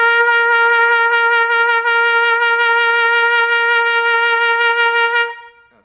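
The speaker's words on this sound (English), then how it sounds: "Another type of vibrato is a diaphragm vibrato" A trumpet sustains one steady held note with diaphragm vibrato, its pitch and volume pulsing in quick regular waves for about five seconds before fading out, solo and close with no voices.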